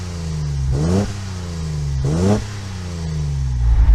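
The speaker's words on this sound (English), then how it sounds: "So give it some revs." A Nissan 240Z sports car engine idles with a deep rumble, then revs sharply twice, each rise in pitch falling quickly back to idle.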